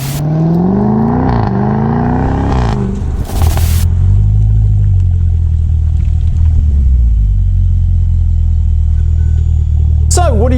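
Lister Stealth SUV engine revving close by, a deep rumbling drone with rising and falling pitch as the throttle is blipped, then holding a steady loud idle-like roar with a brief clatter partway through.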